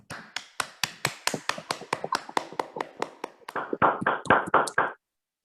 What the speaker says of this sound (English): Let us unmute ourselves and give him a real round of applause.